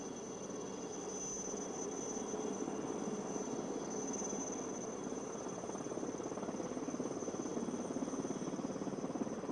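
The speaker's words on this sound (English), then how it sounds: "The helicopters have commenced the spot turn." Military helicopters hovering in a spot turn during a Beating Retreat and Tattoo ceremony at the Gateway of India in Mumbai produce a steady, continuous rotor and engine drone, heard from a distance without pause.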